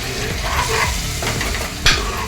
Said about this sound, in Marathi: आता पुन्हा याला एक पाच ते सहा मिनटं चांगले मी परतून घेणार आहे